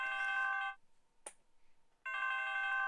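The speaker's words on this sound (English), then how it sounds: "It's the new phone sound" A new phone ringtone plays as a bright, stacked tonal chime, sounding in two long bursts with a short quiet gap broken by a single sharp click.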